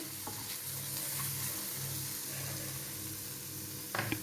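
Gentle, steady sizzling of spice powders frying in oil for a mango fish curry, soft and continuous, with a brief clatter near the end.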